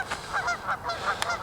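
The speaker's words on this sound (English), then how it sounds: "right away here's some of the geese activity" Geese honk repeatedly in a town on a cold morning, a flurry of nasal, overlapping calls from a few birds at moderate distance, with no talking.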